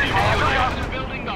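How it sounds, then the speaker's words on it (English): A deep, rumbling bomb blast from the war strategy game World in Conflict, a heavy sustained boom filling the moment with broad low roar. "Sir, enemy bomb delivered."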